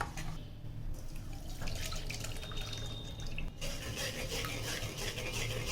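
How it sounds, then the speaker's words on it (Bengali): Ground mustard paste thinned with water is strained for a mustard hilsa dish, a soft continuous trickle and drip of liquid with faint scraping and stirring, quiet and close. "তাই আমি সর্ষেটাকে ছেঁকে নিয়েই দেব"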